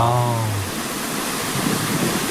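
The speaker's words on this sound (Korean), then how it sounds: "청평사가 가까워질 무렵 힘차게 떨어지는 물줄기 앞에 잠시 발걸음을 멈춥니다." Gugseong waterfall on the path to Cheongpyeongsa temple, swollen after heavy rain, pours in a loud, constant rushing roar, with a brief voice at the very start.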